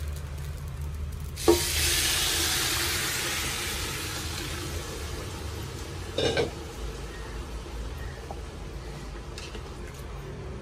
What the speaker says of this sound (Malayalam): നല്ല തിളച്ച വെള്ളമാണ് ഒഴിച്ചത്.